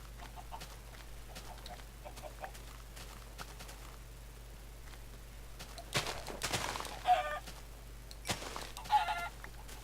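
Chickens in the video game Minecraft cluck in a few short, faint bursts over a quiet, steady background hum, with no voices present.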